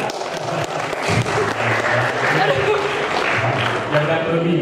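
Applause from a campus audience rising under a speaking voice, dense and steady clapping throughout.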